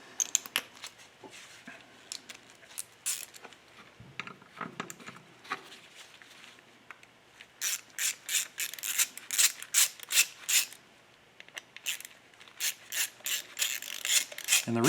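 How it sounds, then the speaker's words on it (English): Security Torx screws are backed out of a gas regulator and solenoid valve, giving a close series of quick ratcheting clicks in bursts, sparse at first and then rapid and rhythmic. "we've got to pull out those 3 Torx screws"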